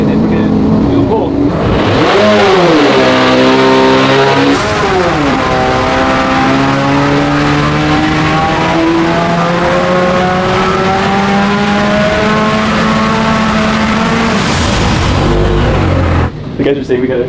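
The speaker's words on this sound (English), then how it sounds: "One side of the rotors went really rich, and so it was misfiring." A 12-rotor engine runs loudly on a dyno, sweeping up in pitch through a sustained pull after brief revs, rough and uneven as one rotor bank runs rich and misfires; voices talk faintly beneath it.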